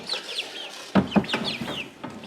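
Young chickens kept indoors cluck and peep in short chirpy bursts, close and fairly soft, with a couple of louder clucks in the middle.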